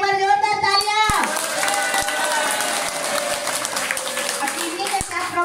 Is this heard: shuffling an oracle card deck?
no